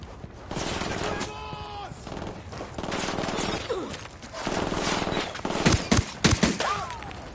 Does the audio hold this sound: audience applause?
no